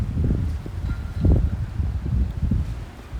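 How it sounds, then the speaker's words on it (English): Steady outdoor wind buffets the microphone with a low, gusty rumble and some leafy rustling near a lake-side park, continuous and fairly loud with no voices. "I'm okay with the wind."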